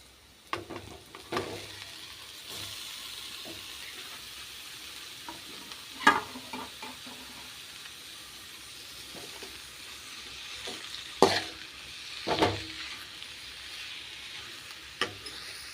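Tender young jackfruit tossed into garlic and shallots frying in a pan, a soft steady sizzle broken by several sharp scraping stirs and clanks of the spoon against the pan.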